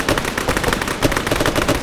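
Dense, rapid gunfire from the Arma 3 military video game, with overlapping rifle and machine-gun bursts rattling continuously and loudly throughout, no speech.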